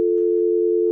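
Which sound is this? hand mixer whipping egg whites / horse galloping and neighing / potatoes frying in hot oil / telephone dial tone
telephone dial tone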